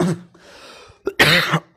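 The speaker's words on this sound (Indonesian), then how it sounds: "Aduh, sampai batuk-batuk." Close coughing: a short cough, a raspy wheezing throat sound, then a stronger double cough, loud and near, with no talking.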